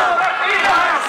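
A crowd at an outdoor political rally in Padua roars in acclaim for the mayor, a loud, dense wash of massed voices shouting and cheering continuously through the short stretch.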